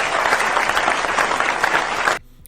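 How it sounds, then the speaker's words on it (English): An audience claps and applauds Gov. Ron DeSantis, dense steady applause filling the room loudly before cutting off abruptly near the end. "did you see that everyone clapped and applauded?"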